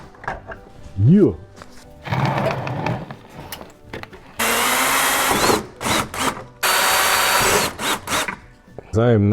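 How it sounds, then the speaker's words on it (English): A power drill boring holes into a car bumper on an MK7.5 Golf R while fitting an ECS rear diffuser, heard as several loud, close bursts of whining drilling separated by pauses, with someone talking in between. "I'm just gonna go ahead and drill the holes into the bumper where I want the new bolts to go in."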